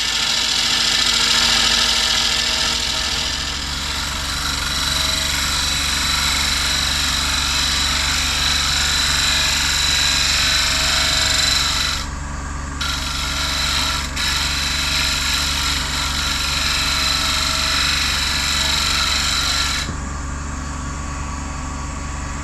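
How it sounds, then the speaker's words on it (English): A wood lathe runs steadily while a sharp gouge cuts away a glue block from a sapele tealight holder, giving a constant motor drone with rough scraping and a couple of brief dips where the cut pauses. "My little sharp gouge just to get this glue block off."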